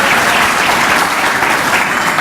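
Dense, loud applause from a conference audience at an annual report presentation, honoring partners, a steady continuous roar of many hands clapping with no talk over it.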